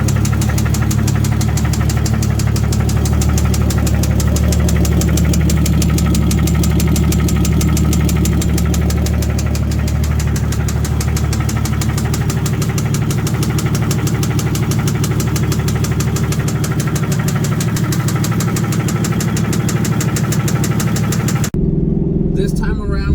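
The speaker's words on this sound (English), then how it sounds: "The car did get rod knocked, if you guys didn't know." A Mazda Miata engine with rod knock runs steadily, its rapid, even knocking beating loudly over the idle for most of the stretch before cutting off abruptly near the end.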